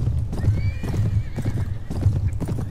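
Horses in Mount & Blade: Warband gallop with rhythmic, repeated hoofbeats and give several sharp whinnies during a charge in battle, loud and near, with no voices over them.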